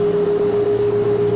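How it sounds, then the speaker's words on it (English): Low-throttle and landing gear warning in the X-Plane 11 flight simulator, heard as one steady, loud electronic tone held without a break over a low engine hum. "What you're hearing is a beeping because my throttle's being too slow."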